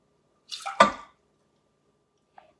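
Half a cup of water poured into a cooking pot while making rock candy: one brief, close splash lasting about half a second, followed by a faint drip after a short silence.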